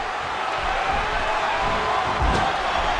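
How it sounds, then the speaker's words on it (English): Arena crowd at an AMPRO Wrestling Bearcave 11 show roars in a steady, dense wall of cheering and shouting, with a brief louder swell near the end. "Would you listen to this crowd show their appreciation for these amazing competitors?"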